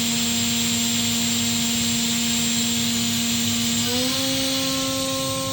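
The spindle of a 2011 Makino F5 CNC vertical machining center whines at a steady high pitch, with a bright tone over a constant machine drone, then steps up to a higher pitch near the end as the speed rises.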